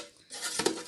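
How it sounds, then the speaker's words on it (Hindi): An air fryer basket is pulled open and a roast chicken inside is turned, giving a brief close clatter and clink of metal lasting under a second, with no talk. "मैं इसको थोड़ा सा मैंने खोला है और इसकी साइड चेंज करने लगी हूँ"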